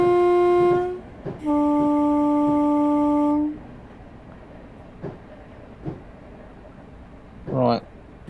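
A Class 313 electric multiple unit sounds its two-tone horn approaching foot crossings: a short first blast, then a longer sustained note, followed by rail clicks and a brief whine inside the cab.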